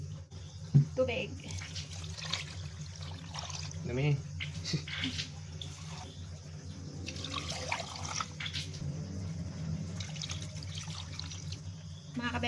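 Water pours and trickles steadily into a cooking pot holding ginger, onion and lemongrass, under kitchen clatter, while a voice speaks briefly.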